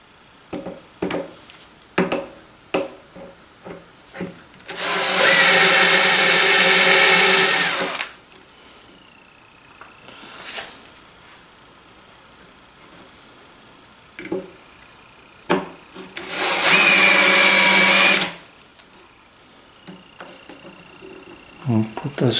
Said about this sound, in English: I'm just going to take my Vicks bit and drill a couple pilot holes here